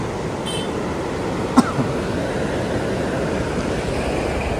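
Flowing water rushes steadily near a hillside hotel, a broad continuous roar at moderate distance with a brief faint knock partway through and no talking.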